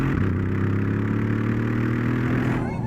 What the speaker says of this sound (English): Most turbo cars sound really quiet because those turbos muffle so much of the exhaust, but this still has a nice deep growl.